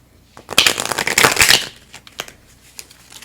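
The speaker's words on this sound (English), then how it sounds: "These cards are so stiff, I can't shuffle them on top of that other deck" A stiff deck of oracle cards is shuffled by hand in one brisk riffling burst lasting about a second, close to the microphone, followed by a few faint card taps.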